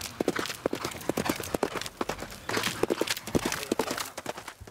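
Horse hooves trotting: a quick, steady clip-clop of sharp hoof strikes in repeating rhythm, fairly close, with faint background noise between beats.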